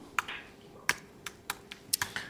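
Sparse, close key presses on a computer keyboard, about eight crisp taps at an uneven pace, with no talking over them.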